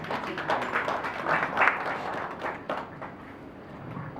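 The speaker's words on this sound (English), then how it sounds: "Let's give him a round of applause as he comes." Applause at a national youth organizations conference as the executive director comes up to give welcome remarks; moderate, somewhat distant clapping from an audience that tapers off after a few seconds.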